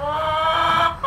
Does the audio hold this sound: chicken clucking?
yes